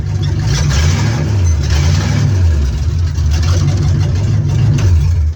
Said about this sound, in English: when we got the locomotive running, and it still needs the exhaust system put on, but now it fires up